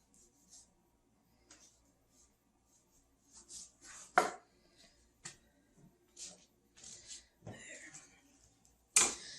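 A knife trims the flap off a rack of pork ribs, giving sparse quiet cuts and taps on a board with a few sharper knocks, close and otherwise quiet.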